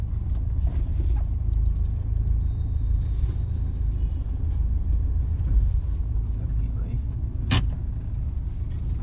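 A car rumbles past on a road beside a Scorpio being taken for a tyre change, a loud steady engine and tyre roar running the whole time with traffic noise around and voices mixed in.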